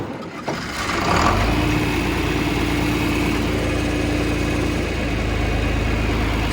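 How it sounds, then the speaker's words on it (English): A diesel engine with a freshly rebuilt injection pump, new injectors and a new fuel filter starts from cold, then settles into a steady, loud, rumbling idle that holds close by with no talk. "So here's your all's cold start."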